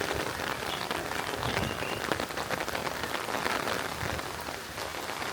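Steady rain pattering on a sandy dirt road, a dense continuous hiss with scattered drop impacts, close and fairly loud, no voices.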